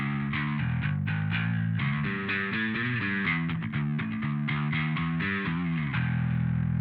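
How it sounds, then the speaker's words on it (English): Bass guitar through the distortion effect of an XSONIC XTONE, playing a steady run of gritty, overdriven notes that shift in pitch and end on a held note, close and loud, alone without talk. "octave is now off, and distortion is now on"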